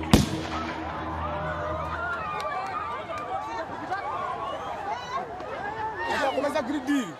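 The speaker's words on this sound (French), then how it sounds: "Puis un coup de feu retentit pour disperser les sinistrés." One sharp gunshot cracks out at the start over a desperate crowd of disaster victims, followed by shouting, agitated voices and crowd noise.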